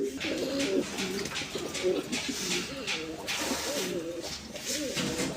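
Pigeons at a Bengali pigeon market coo repeatedly and close by, soft rolling calls coming in overlapping bursts throughout, with a voice talking over them.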